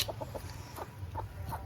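A chicken clucks in a handful of short, quick, close calls, near a fish farm, with faint outdoor background noise.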